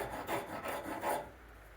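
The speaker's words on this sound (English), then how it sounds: "Once I hit it with a rasp, I'm going to hit it with a finer file" A coarse rasp files a purpleheart wood knife handle on a forged seax with four rhythmic rasping strokes, close and steady, each a bright scraping pass that fades toward the end.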